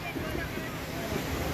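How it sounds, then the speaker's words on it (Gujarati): Waves wash steadily on a sea beach at Dwarka, a continuous broadband rush with wind buffeting the microphone, no distinct breaks. "દરિયાઈ બીચ"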